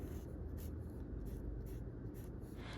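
A heavy graphite pencil rubbed across the back of a drawing on paper gives a steady, close scratching hiss, broken into brisk back-and-forth strokes, with no voices.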